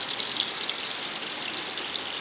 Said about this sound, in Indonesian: Kita siram mulase dari gula merah